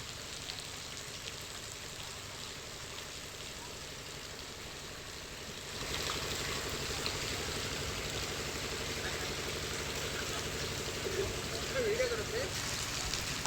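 Floodwater rushes over the Madikeri–Bhagamandala road in Kodagu during heavy monsoon rain, a steady broadband wash that grows louder partway through, with a narrator talking over it.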